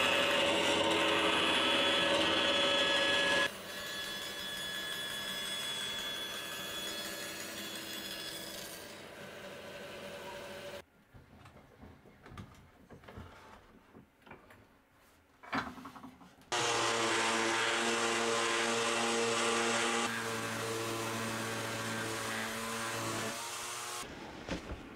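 A bandsaw makes short rough cuts through wood for an open-back shelf, its steady loud buzzing grind coming in two long passes separated by a quieter stretch of scattered handling noises.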